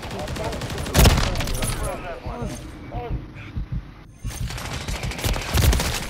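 Shotgun blasts in the Call of Duty video game ring out in heavy, sharp bursts amid other in-game gunfire and effects, while players talk excitedly over the action.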